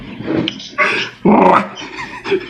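A voice imitates dogs growling and snarling in several short rough bursts, loud and close.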